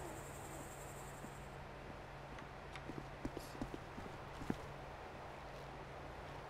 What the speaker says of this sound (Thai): เสียงตีนซอมบี้หรืออะไร